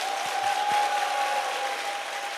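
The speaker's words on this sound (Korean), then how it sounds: "다시 한번 뜨거운 박수 부탁드립니다" A large audience gives warm, sustained applause to welcome a professor onstage at an event, with dense, even clapping that stays loud throughout and a faint steady tone in the background.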